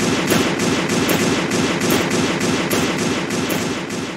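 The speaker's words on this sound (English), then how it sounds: "new Arsenal shooting animation." Rapid, continuous automatic firing from the Arsenal tower in the video game Doomspire Defense, a dense rattling burst of shots at steady volume with no pauses, heard alone.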